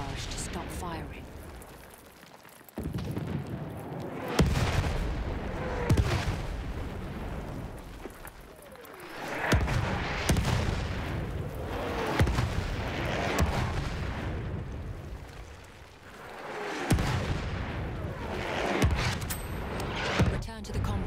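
Enemy artillery barrage in Battlefield 1, heavy booming impacts and shots rolling in repeatedly at close to middle distance, each blast swelling then fading, with in-game voices and chatter mixed in throughout.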